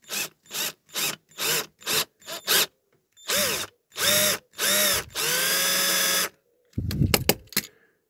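Power drill boring a hole in a 1963–66 Corgi Toys Commer pickup diecast model, heard as a series of short whining bursts, then longer sustained runs and a final clattering burst, loud and close with no talk.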